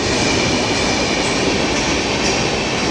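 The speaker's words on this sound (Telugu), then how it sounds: "అది రాజధాని, బెంగళూరు నుంచి హజరత్ నిజాముద్దీన్ వెళ్ళే రాజధాని." Rajdhani Express running from Bangalore to Hazrat Nizamuddin passes close by, a loud continuous roar of wheels and carriages on the rails with a faint clatter and no voices.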